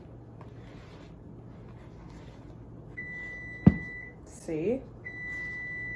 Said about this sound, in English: There's gonna be some beeping happening very soon.